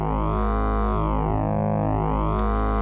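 A dense, harmonically rich synth drone from a sine wave run through a TipTop Audio Fold Processor wavefolder, buzzing and distorted, with a slow sweeping tonal shift that dips and rises across a few seconds; loud and steady, no voices.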